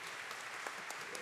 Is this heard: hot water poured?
no